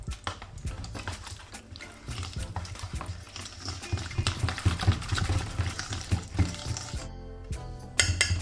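A spoon stirring natural yogurt into a blended paste in a bowl, giving wet squelching scrapes and repeated clinks against the bowl in an irregular rhythm, close and moderately loud with no speech.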